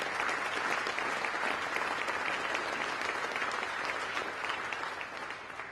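Sustained applause from a church community audience at the Feast of St. James's, steady and full throughout, tapering slightly in the final second.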